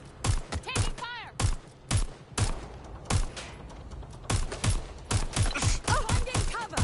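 Gunfire from a street firefight in Watch Dogs Legion: repeated sharp shot bursts in quick rhythmic clusters throughout, close and loud, with shouted voices between and over the shots.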